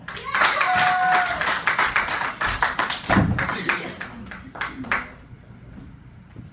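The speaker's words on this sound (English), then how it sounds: "Let's give a big round of applause for your next comedian, Mr. Thomas Gill." A comedy-club audience greets the next comedian with a short burst of clapping, fairly close and uneven, with distinct individual hand claps and thumps that fade after a few seconds into quieter scattered claps.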